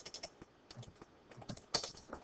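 Fingers type a chart title on a computer keyboard, a quick uneven run of soft close key clicks, quiet and without talk.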